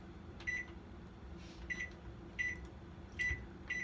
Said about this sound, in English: I'm thinking another 2 minutes in the microwave.